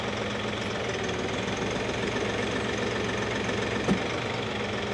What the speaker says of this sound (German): Schalten wir gleich mal den Motor ein.